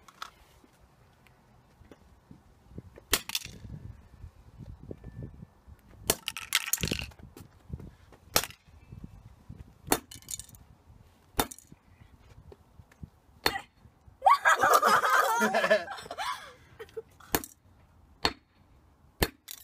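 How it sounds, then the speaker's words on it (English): Hammer blows strike a Game Boy Color game cartridge, a series of sharp, loud cracks and crunches spaced unevenly, with a longer burst of shattering plastic near the middle, each impact standing alone against near silence. "I'm going to smash it with a hammer"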